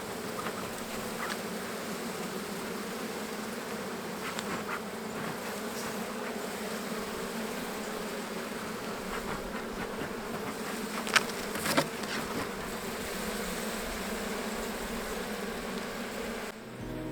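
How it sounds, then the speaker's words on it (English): A continuous, close droning buzz of many honey bees in an old hive box during a hive split, steady throughout, with a few faint knocks and clicks. "go down, bees."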